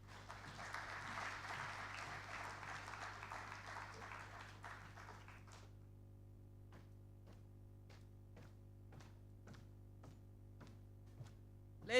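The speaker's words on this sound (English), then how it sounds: "I must confess that you did well by clapping" Faint audience clapping after a speech at a trade workshop, a soft wash of applause for about five seconds, then thinning to a few isolated claps.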